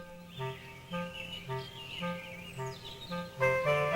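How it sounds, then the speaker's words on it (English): Cartoon birds in a bright animated world chirp in short repeated bursts of tweets about every half second, with a steady music bed beneath and a denser flurry of calls near the end. "There were birds,"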